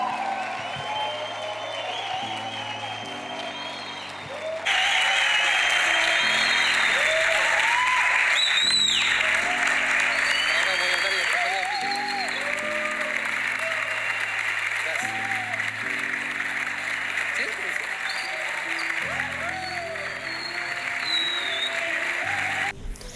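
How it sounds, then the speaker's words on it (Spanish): An audience applauds to welcome a speaker, a steady, loud wash of clapping that starts partway in and continues under background music. "Recibamos con un fuerte aplauso"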